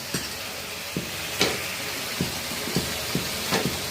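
Pieces of layer chicken stirred into cooked-down spice paste of turmeric, chili and salt in a pan, with a steady sizzle and frying hiss punctuated by scattered soft clacks of a spatula, close by and without talk.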